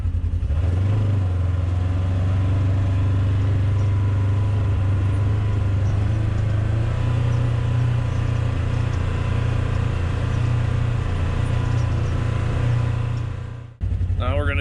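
A 2024-plus Polaris RZR XP 1000 side-by-side fitted with an aftermarket Assassins dual muffler exhaust cruises at steady speed, its deep droning engine note constant and close for about fourteen seconds before cutting off abruptly.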